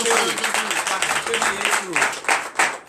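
Church congregation at a morning prayer service in Benin breaking into applause and acclamations, with clapping mixed with raised voices and shouts of praise, loud and lively throughout.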